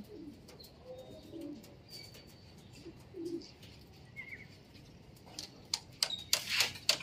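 Racing pigeons coo softly at a loft landing board during a pooling race, with faint chirps, light tapping and clattering around them and louder rustling near the end.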